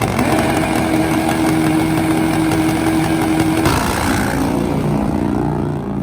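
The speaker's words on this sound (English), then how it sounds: "Turbo KZ versus the Nitro Harley" A Turbo KZ and a Nitro Harley drag motorcycle race head to head in an open-category drag event, their engines a loud, continuous, high-revving roar whose pitch shifts as they run.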